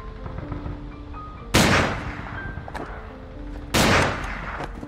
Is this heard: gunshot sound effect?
yes